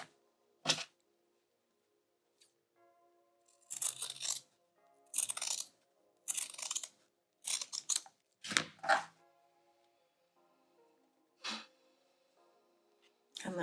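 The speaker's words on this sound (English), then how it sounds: "Trim the seam allowance." Scissors trimming the seam allowance of a sewn fabric bag: a series of short, crisp snips in bursts separated by quiet pauses, close and fairly soft.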